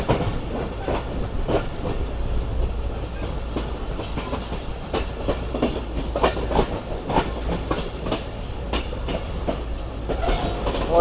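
The 14 Down Awam Express rolls toward Rohri Junction, a steady close rumble with rhythmic clickety-clack of wheels over rail joints and wind noise throughout.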